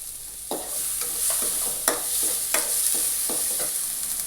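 Asafoetida and turmeric fry in hot oil in a pan, giving a steady high sizzle broken by a series of short stirring scrapes, with no talking.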